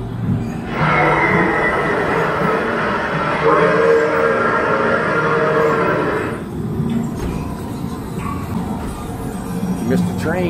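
A loud amusement park ride train at Kennywood Park, Pittsburgh, rumbles and rattles close by for several seconds, then cuts off abruptly, leaving quieter background noise.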